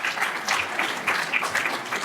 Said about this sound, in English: we can give Henry a little bit of applause